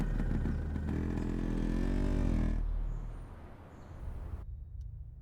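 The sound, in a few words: motorcycle engine revving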